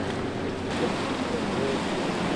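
Steady broadband wash of ocean waves and cold wind at sea aboard a fishing boat heading out, a continuous roar with no distinct breaks, fairly loud and unbroken throughout.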